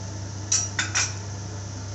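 Wheat flour and raw rice flour being mixed in a bowl for an eggless vegetable omelette batter: a few light, bright spoon clinks against the bowl over a low steady hum.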